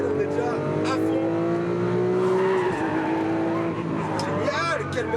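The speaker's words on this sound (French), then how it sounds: "Génial! Quel moteur incroyable!" A 700 hp carbon-chassis race car roars at full throttle on a Las Vegas track, its engine note rising steadily then dipping with tyre squeal, loud and close throughout with a voice briefly audible over it.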